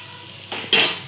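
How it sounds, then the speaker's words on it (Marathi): Ivy gourd (tondli) vegetable being stirred in a frying pan with a little coriander, a soft scraping and sizzling bump that swells in two close strokes, the second louder, over a quiet background. "आता पुन्हा एकदा आपण त्याला एकत्र करून घेऊया."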